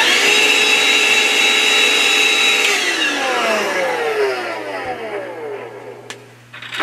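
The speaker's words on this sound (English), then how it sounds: "And then we'll vacuum that up." A loud vacuum cleaner whirs close by, then its motor winds down with a falling pitch as it switches off.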